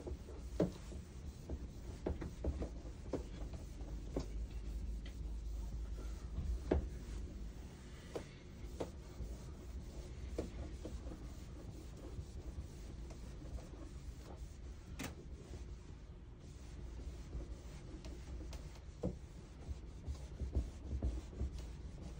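Faint repeated rubbing strokes as writing is wiped off a board, quiet scraping swipes in an otherwise hushed room with no speech.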